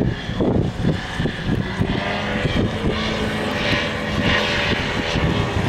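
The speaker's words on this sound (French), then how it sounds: "Il est propulsé par un tout petit moteur, le plus petit des Rotax, le Rotax 377" A Scoutchel ultralight aircraft powered by a small Rotax 377 engine at an ultralight show in Blois, its propeller engine droning loud and steady nearby, with no talk.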